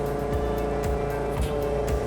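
A construction machine drives forward during a wheel and steering test, its steady engine drone and harmonic whine continuous and close throughout, with periodic low thumps from the drivetrain and no talking.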